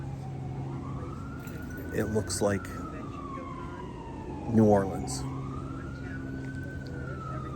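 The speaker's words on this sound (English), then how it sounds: "Sirens going on right now" Emergency vehicle sirens wailing along a New Orleans street, a rising and falling tone over traffic with a couple of brief louder bursts, while someone talks over it.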